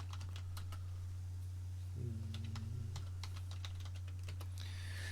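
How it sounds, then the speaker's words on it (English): Someone types on a computer keyboard in a home studio, with quick irregular clicks and taps over a constant low electrical hum and no talking. "Pardon me while I type, because I cannot talk and type at the same time."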